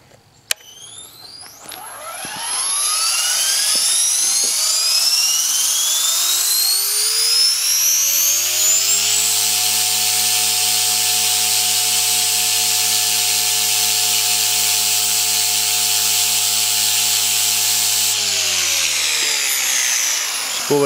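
A helicopter rotor spins up with a rising whine over the first several seconds, then holds a steady, loud, continuous drone at head speed before easing slightly near the end; no talking.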